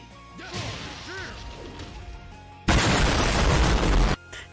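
A loud explosion sound effect from a stream alert bursts in after a brief whooshing rise, a dense, roaring blast that holds for over a second before cutting off abruptly.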